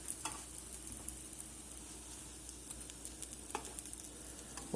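Crab cakes pan-frying in a skillet, a steady faint sizzle with scattered crackles and pops throughout and no voices.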